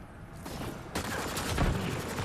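Gunfire from the video game Mass Effect: Andromeda, a dense fusillade of rapid shots that jumps louder about a second in and keeps crackling steadily, with no talk over it.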